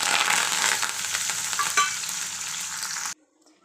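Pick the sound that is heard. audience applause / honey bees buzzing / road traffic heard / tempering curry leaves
tempering curry leaves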